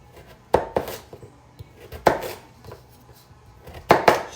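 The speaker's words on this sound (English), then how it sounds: "I think some of these I'm cutting bigger than others" A knife chops turnips on a board in a home kitchen with sharp, close thuds. Three clusters of two or three quick strokes each come with short pauses between them, and no one speaks.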